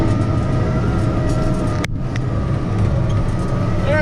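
A Tigercat 620E log skidder's diesel engine drones steadily and loudly up close at a logging site, with a brief dip partway through before the constant roar resumes.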